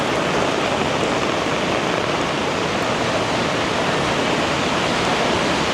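Heavy surf crashing onto My An beach in a rain storm, a loud, steady roar of breaking waves and rain with no pauses and no voices.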